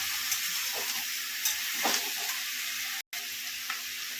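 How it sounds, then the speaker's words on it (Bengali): Malabar spinach with salt and turmeric is stirred in a hot pan, giving a soft continuous sizzle with a few light scraping strokes and one brief drop to silence. "আবার নুন হলুদ দিয়ে আমি একটু নেড়ে দেবো আর একটু"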